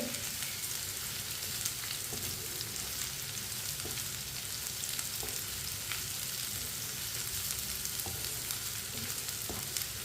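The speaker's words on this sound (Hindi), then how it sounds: "टिंडे और प्याज को दोनों को एक साथ 3-4 मिनट के लिए पका लेंगे।" Tinda and onion sizzle and fry together in a pan, a steady dense crackle that runs on without a break and stays close, with faint stirring.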